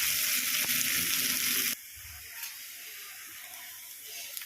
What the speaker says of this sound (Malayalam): ഉള്ളി ഒന്ന് വഴഞ്ഞ് വറുത്തിട്ട്